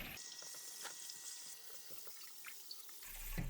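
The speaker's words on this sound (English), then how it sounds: "drain and rinse thoroughly under cold running water" Cold tap water runs steadily over cooked ramen noodles in a sink, a continuous close hiss and splash with faint drips, no talking.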